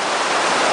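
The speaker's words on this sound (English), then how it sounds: "This is Little Butte Creek," Little Butte Creek rushing at flood stage, a loud, steady broadband roar of churning water with no pauses or voices.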